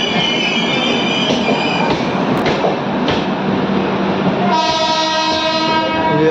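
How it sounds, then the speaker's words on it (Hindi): The Udyaan Express pulls into a station on its run from Lonavala to Mumbai CST. A continuous, loud rumble of rolling wagons and wheels is followed by the train's horn sounding steadily near the end. "ये आ गई उद्यान एक्सप्रेस।"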